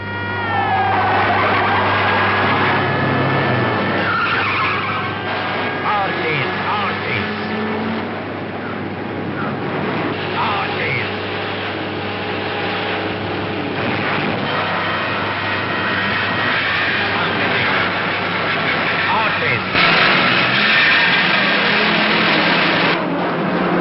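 A car speeds during a police chase in an older Hindi film scene, engine roaring loudly and continuously under a layered soundtrack with tonal music, swelling again near the end.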